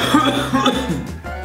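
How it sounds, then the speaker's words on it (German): A few short, harsh coughs in quick succession, close to the microphone, with some throaty vocal sounds between them. "der hure Husten"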